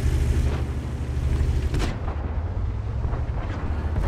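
A tank cannon fires in World of Tanks, a loud booming blast with rumbling low-end decay amid continuous battle noise, followed by a fainter secondary crack.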